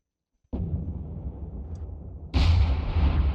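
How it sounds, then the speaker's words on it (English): Gunfire in the Minecraft video game: a sudden rumbling blast bursts in after silence, then a second, louder boom hits and keeps rolling, with no talking. "Did someone just shoot at me?"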